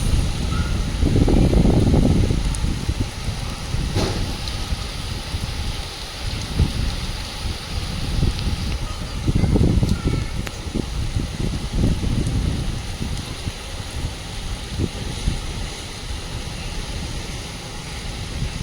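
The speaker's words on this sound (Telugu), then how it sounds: "మా ఏరియా వర్షం చాలా అంటే చాలా బాగా పడుతుంది" Evening rain falling in Hyderabad, a steady wash of rainfall with low rumbling gusts swelling and fading at intervals.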